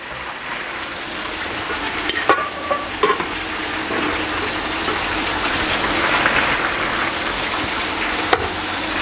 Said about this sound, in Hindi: अभी इसको मैं जस्ट मिक्स करूंगा और थोड़ा फ्राई करूंगा ताकि सारे सॉसेस अच्छी तरह राइस में मिक्स हो जाएं।